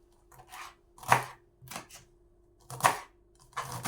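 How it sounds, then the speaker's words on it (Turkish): A knife finely chops fresh herbs with their stems on a cutting board in short, uneven bursts of quick cuts, close and clear with quiet gaps between them. "ve otumuzu incecik doğrayacağım"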